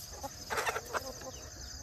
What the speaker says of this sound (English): I think this guy's a rooster here.